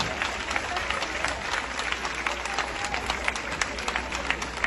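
An audience applauding at a gathering, dense steady clapping from many hands that carries on without a break, with a faint voice underneath.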